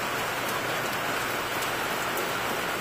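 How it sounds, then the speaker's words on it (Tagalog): Heavy rain pours steadily, a loud dense unbroken hiss of drops on surfaces with a few sharper splats, no voices over it. "Grabe yung ulan. Lagi na lang ulan-ulan."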